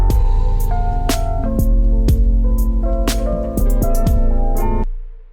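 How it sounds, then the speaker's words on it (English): Vocal sample run through the Space Blender plugin on its chase setting, in a sample-based beat: loud, layered tonal smears with sharp repeating transient hits and long sustained pitches, cutting off into a brief tail near the end. "And then we have Space Blender, which is doing all the work."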